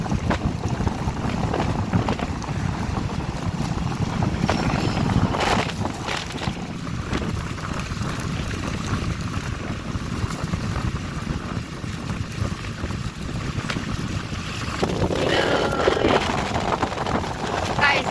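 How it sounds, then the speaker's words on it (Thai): Strong outdoor wind blows steadily into the microphone, a continuous loud rushing and buffeting roar that lasts throughout with no break. "ได้ยินแต่เสียงลม"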